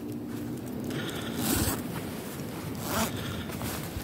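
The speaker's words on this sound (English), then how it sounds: "Zip goes down, always down to the bottom." A zipper on an Austrian sniper sleeping bag hammock is pulled down in several rasping strokes, close and fairly loud at an uneven pace, with two stronger pulls in the middle.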